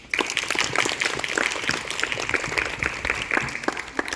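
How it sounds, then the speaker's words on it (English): Applause from a summer camp audience at a closing event, a dense patter of clapping hands that holds steady at moderate loudness throughout, with no voices standing out. "clap for yourself"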